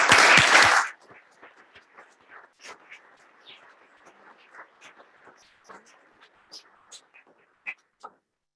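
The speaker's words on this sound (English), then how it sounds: "So I think we give them the biggest round of applause" Audience applause bursts out loudly at a court ceremony honoring the AOC, then quickly dies down to scattered faint claps and murmurs.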